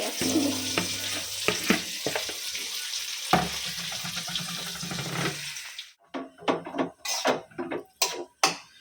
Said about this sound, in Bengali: এই দেখুন হালুয়া রান্না করছি